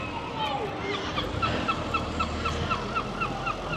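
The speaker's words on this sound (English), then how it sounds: "Somebody's just put some chips on this table though for these seagulls." A crowd of seagulls mobbing a corner of an outdoor table on a hot day in Blackpool where chips have been left, with repeated honking squawks over steady background noise.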